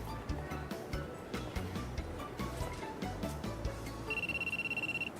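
A flip phone rings in a visual novel game, a bright electronic trill pulsing rapidly near the end over a busy ambient game soundtrack.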